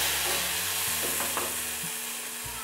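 Cumin seeds crackle in hot oil in a pan with a ground peanut and green chilli mixture, giving a steady close sizzle with scattered pops and stirring scrapes, with no talk.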